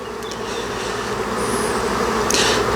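A honeybee swarm that has just been shaken from a branch buzzes in a dense, steady drone, loud and close, with a few individual bees passing near, and no talk.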